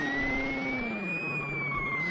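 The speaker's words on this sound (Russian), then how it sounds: "Включаем фары, сирену." Police car siren in the BeamNG driving game, a steady sustained wail slowly rising and falling in pitch, loud and continuous with engine noise beneath.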